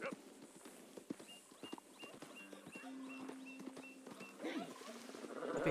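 A horse's hooves clip-clop at a walking pace in Red Dead Redemption 2, close and fairly quiet, joined by soft tack jingles and a brief tonal in-game sound near the middle.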